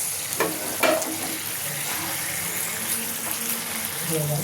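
Soft fried eggplant is stirred and coated in a pan, a steady low sizzle with occasional scraping knocks of the spatula against the pan, no talking.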